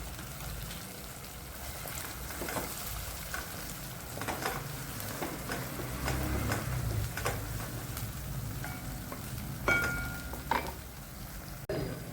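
Spiced paneer kofta masala with turmeric and red chilli powder sautéing in oil, a steady soft sizzle with occasional stirring scrapes and small pops throughout, close and continuous, with no talk.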